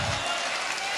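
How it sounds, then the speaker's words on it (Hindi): Audience applause at a Hindi poetry recital, a steady wash of clapping that fills the whole second at moderate level, with no voices over it. "तालियां कमजोर थी,"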